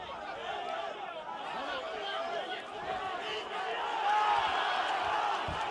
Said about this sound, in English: See the crowd cheering there